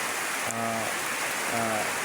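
Rain falls steadily as a broad, even hiss, close and moderately loud, with two brief low hums in the background.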